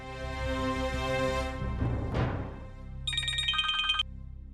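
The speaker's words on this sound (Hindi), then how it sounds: "मानव, आप प्लीज उसे फोन कीजिए और उसे पूछिए, और हाँ स्पीकर पे रखिए" A phone ringtone plays on speaker, a steady electronic ring repeating with a melodic chiming pattern, close and clear.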